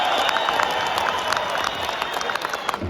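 A crowd at a WBC boxing gala applauds after the national anthem, dense continuous clapping and cheering filling a large hall, loud and close.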